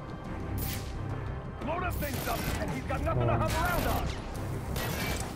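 Enemies fire guns in the Batman: Arkham Origins video game, several sharp bursts of shots spaced a second or so apart while someone talks over them.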